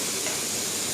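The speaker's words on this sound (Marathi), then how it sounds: "हिरवी मिरची असल्यामुळे मसाला छान फ्राय होऊ द्यायचा" Masala with green chilies frying in a pan for chicken kharda, giving a steady, close hiss of sizzling oil.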